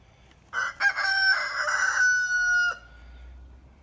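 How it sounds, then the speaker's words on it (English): A rooster among backyard chickens kept beside a vegetable garden gives one loud, drawn-out crow lasting about two seconds, fairly close, against a quiet outdoor background. "And then we got the chickens."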